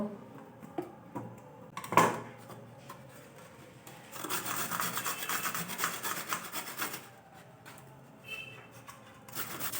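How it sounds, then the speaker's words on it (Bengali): Peeled carrots rasp against a grater in a quiet kitchen, with a knock near the start followed by a sustained run of rough, scraping strokes that trails off. "এবার আমি একটা গ্রেটারের সাহায্যে গ্রেট করে নেব।"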